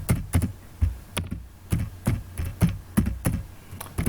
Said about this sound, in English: so I'm going to type in my name